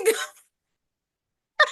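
A single sharp sneeze, close and loud, followed after a brief silence by a short burst of voice.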